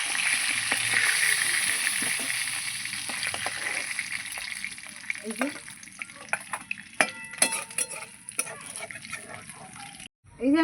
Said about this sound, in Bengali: বাদ বাকি মাছও দিয়ে দেবো এভাবে ভেজে নেব